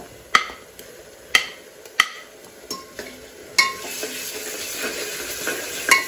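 Onions sautéing in a pan with ginger, garlic and green chili paste: a soft steady sizzle punctuated by sharp, regular clinks and scrapes of a spoon stirring against the pot.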